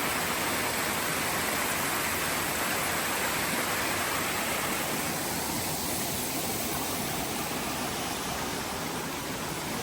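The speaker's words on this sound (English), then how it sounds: "We're coming up to the first waterfall that I have seen" A waterfall along the Appalachian Trail gives a constant broadband roar of falling water, loud, close and unbroken for the whole span, with no voices.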